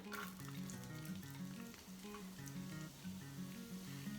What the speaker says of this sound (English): With my pan nice and hot, I'm gonna add in my onion.